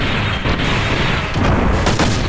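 The Hard Gatling attack in the video game Xenogears bursts out as loud, rapid booming gunfire that volleys and explodes with no pause and no talk.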